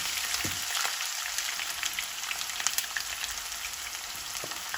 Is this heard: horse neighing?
no